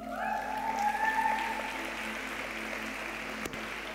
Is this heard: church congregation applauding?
yes